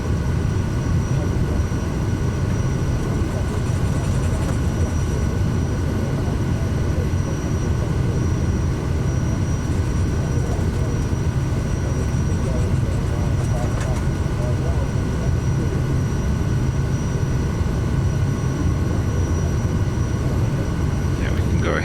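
A single-engine turboprop Kodiak 100 takes off in Microsoft Flight Simulator 2024, its engine and propeller drone steady and loud throughout with no pauses, filling the scene as a continuous hum.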